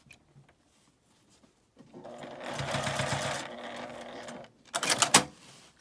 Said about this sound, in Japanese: 端から5ミリぐらいのところを縫います。